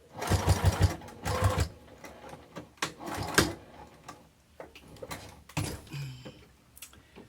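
Sewing machine stitching over the seam of a Bristol zipper pouch, running in several short bursts with pauses and handling noises between them, close and moderately loud.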